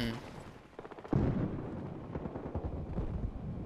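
Gunfire in the video game Battlefield Hardline, a sharp loud shot near the middle followed by a rapid rattle of further shots and booming echoes.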